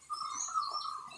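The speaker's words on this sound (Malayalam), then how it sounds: "പിന്നെ ഇങ്ങനെ കുറച്ച് കൂട്ടമായിട്ട് ഇങ്ങനെ വന്ന് കലപിലാന്ന് സൗണ്ട് ഉണ്ടാക്കുന്ന പക്ഷികളില്ലേ, അത്." A flock of small birds chatters and chirps steadily during rain, their bright, continuous calls fairly close over a soft background hiss.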